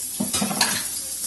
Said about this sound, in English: I've got half of a white onion chopped, and I'm adding this here